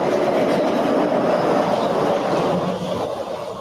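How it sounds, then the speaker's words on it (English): Disneyland monorail passing close by, a loud, steady rumbling roar that holds throughout and eases slightly near the end, with no talking. "It's pretty loud. And that's this. It's the monorail."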